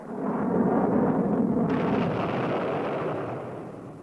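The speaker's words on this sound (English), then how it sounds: "Field trials like this looked impressive as the shoulder-fired missile locked onto its target." A Stinger shoulder-fired missile launches during a field trial, a loud sustained roaring rush that swells quickly and slowly fades over several seconds.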